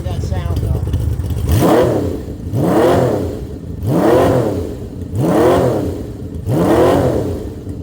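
A motorcycle engine revs up loudly and close by in five repeated surges of rising pitch, each one dropping back briefly before the next throttle blip.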